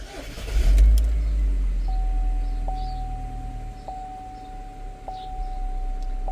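GMC Terrain or Chevy Equinox with a P0011 intake cam timing fault and stalling, its engine cranking and firing up loud and close, then settling into a steady idle with a faint repeating electronic chime over it.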